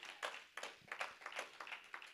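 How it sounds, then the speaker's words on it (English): Church congregation clapping in praise during a sermon, a soft, somewhat distant patter of many hands with uneven rhythmic pulses and no voices. "Let's give the Lord a hand clap of praise for that."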